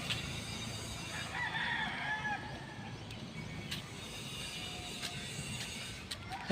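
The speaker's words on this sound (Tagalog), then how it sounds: "Gandang manok" White Kelso gamefowl cluck and crow faintly in an outdoor yard, with scattered soft calls over a low background hum and no talking.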